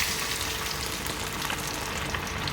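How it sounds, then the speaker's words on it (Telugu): Fish pieces frying in hot oil on medium flame for a crispy fry, a dense, steady crackling sizzle throughout, close and fairly quiet, with no voices. "ఇప్పుడు మనం దీంట్లో చేప ముక్కలు వేసుకుందాము."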